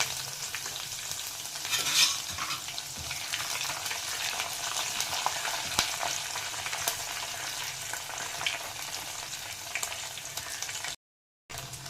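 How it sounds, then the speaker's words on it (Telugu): Spice tempering in hot oil for Andhra-style mango dal: mustard seeds, cumin, garlic, curry leaves and dried red chillies sizzle and crackle steadily, close and continuous, with occasional sharper pops and no talk. "తాలింపు వేగింది కదండి"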